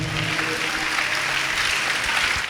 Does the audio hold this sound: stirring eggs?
no